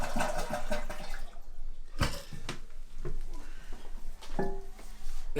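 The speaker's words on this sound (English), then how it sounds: "Now we're going to flush the toilet." A household toilet flushes with its water supply shut off, a loud rushing swirl of draining tank water with sharp clunks from the handle and flapper, nearby and continuous.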